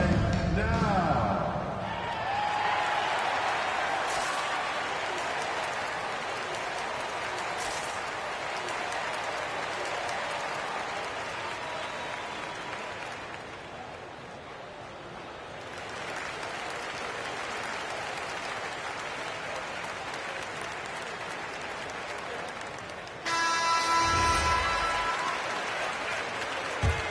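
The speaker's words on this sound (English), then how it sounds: "Time to cheer on your Lakers hype squad" A crowd in a basketball arena cheers and applauds for the Lakers in a broad, sustained roar that dips midway and swells again. Ball bounces and an announcer's voice come through over the noise.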